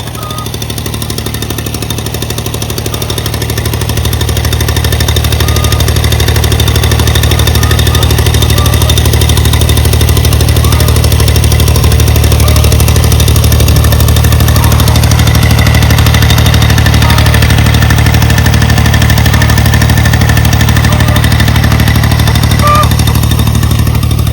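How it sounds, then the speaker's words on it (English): A tractor engine runs loud and steady as it pulls a chicken tractor across grass, a constant low rumble that builds slightly at the start. "Just hook that onto our tractor and just pull it."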